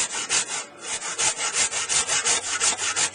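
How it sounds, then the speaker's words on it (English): Hand saw cutting a kerf into a green wood joint, a fast, regular back-and-forth rasp of about a dozen close strokes with a brief pause near the start, loud and alone. "You can actually run the saw in between, kerf it in"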